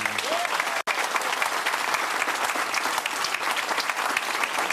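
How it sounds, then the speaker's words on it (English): Loud, dense crowd applause fills a political speech venue after Ed Miliband's response to the Scotland No vote, a steady roar of many clapping hands with one brief dropout near the start. "Let us applaud them today."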